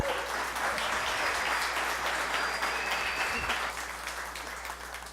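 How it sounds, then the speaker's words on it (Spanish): An audience at a tech talk event in Medellín gives a speaker a sustained round of applause, a dense clapping wash over a low hum that fades slightly toward the end. "Un aplauso, porfa."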